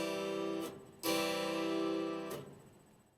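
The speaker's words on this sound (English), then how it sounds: "This system is what gives the harpsichord its unique sound." Bright harpsichord strings plucked by plectrum, a couple of crisp attacks each followed by a buzzy, ringing sustain that fades out.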